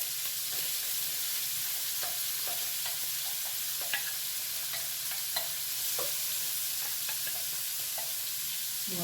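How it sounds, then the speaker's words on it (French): Chopped onion and garlic frying in a pan give a steady, bright sizzle with a few soft stirring scrapes throughout, close and continuous with no talking. "Je vais mettre l'oignon et l'ail."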